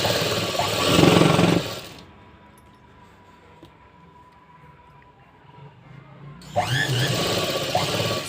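A sewing machine stitches a blouse sleeve in two loud bursts, one at the start and one at the end, separated by a long quiet pause.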